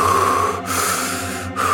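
A narrator performing deep breathing, two long, heavy breaths in and out with a brief pause between, close and fairly loud, alone without speech.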